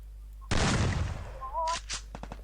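Shotgun blasts in the mobile battle game Free Fire: one loud, close boom with a long rumbling tail, followed by a quick string of sharper shots and game effects.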